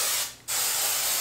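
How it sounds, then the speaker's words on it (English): Two bursts of hairspray from an aerosol can, close and loud, a dense hiss with a brief pause between sprays and no talking. "I'm gonna spray some hairspray on here."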